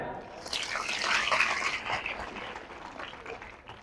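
Audience at a prize distribution ceremony clapping for the children, a broad hissing wash of applause that swells mid-clip and then tapers off, moderately distant.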